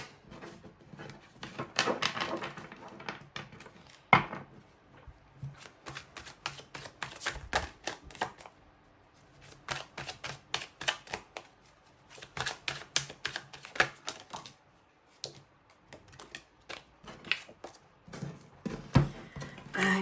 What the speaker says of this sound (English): I'm so not good at shuffling today.